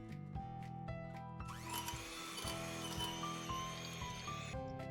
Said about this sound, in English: Use whisk to beat it up until they are separated.